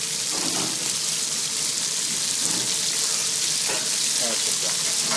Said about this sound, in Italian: Poi mettiamo pezzettini di vitello nell'olio bello caldo, di oliva in questo caso.